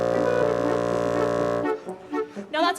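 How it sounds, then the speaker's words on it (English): A low, sustained bassoon note with a rich stack of harmonics, held steadily and fairly loud for about a second and a half, then cut off as a person begins talking. "And here's a low note on the bassoon."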